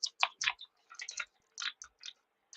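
Crinkly, crunchy rustling of a small plastic bead bag as a crimp bead is fished out, in a quiet cluster of short crackling bursts with brief pauses between them, close and fairly soft.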